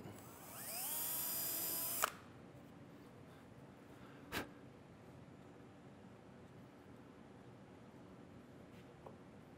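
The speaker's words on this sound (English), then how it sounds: "Okay, so just drill a little hole for it." A small drill whines steadily for a couple of seconds, drilling a small hole in wood for a small brass screw, and stops, followed by a sharp click and a few faint knocks in a quiet room.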